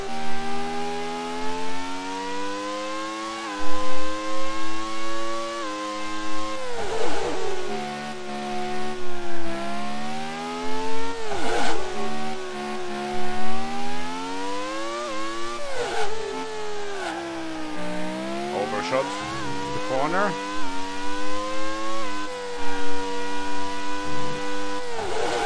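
A racing car engine on a flying qualifying lap in the Grand Prix 2 video game screams loudly throughout, rising and falling in pitch through repeated gear changes and braking dips.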